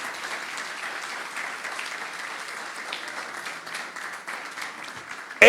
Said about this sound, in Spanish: Y quiero que los aplaudan a ellos.